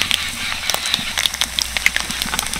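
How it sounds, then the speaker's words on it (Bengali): Mustard seeds, cumin, dried chili and chopped garlic sizzle in hot oil, a steady crackling fizz with scattered sharp pops throughout, close and alone. "তেলের মধ্যে দিয়ে দিচ্ছি 1/2 চামচ করে কালো সর্ষে আর সাদা সর্ষে, 1/2 চামচ সাদা জিরে, কিছুটা কুচো করা শুকনো লঙ্কা, 1 চামচ মতো রসুন কুচি"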